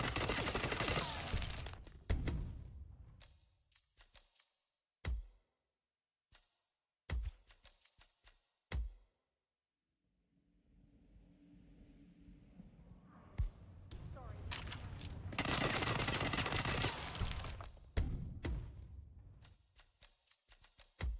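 Submachine gun fire from a video game, a Covert SMG, rings out in loud rapid bursts separated by short gaps and quieter stretches, with the heaviest sustained volleys at the start and near the end.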